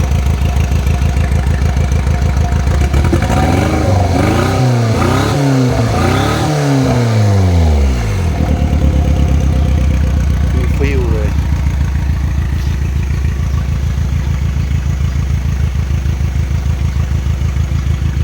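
A Daihatsu Mira JB-JL four-cylinder turbo engine in a golf-cart-style buggy revs several times in rising and falling sweeps, then settles back to a steady loud idle, close up, with someone talking over it.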